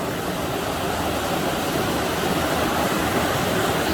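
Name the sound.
river water flowing in a mountain forest park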